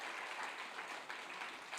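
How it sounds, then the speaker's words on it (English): Audience applause at a members meeting, a steady wash of clapping sustained without pause, fairly faint and distant, with no voices over it. "You don't have to applaud."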